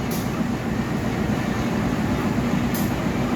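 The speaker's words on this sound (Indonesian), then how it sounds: "saat ini kita sampai di stasiun Kroya, sedang menaikkan penumpang" Progo passenger train standing at Kroya station platform while passengers board, a steady low rumble of the train with continuous broadband hum and no voices.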